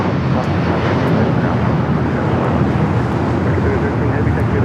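A United Airlines Boeing 757-300 takes off at LAX, heard as a loud, continuous low engine roar with wind rumble, close and unbroken throughout.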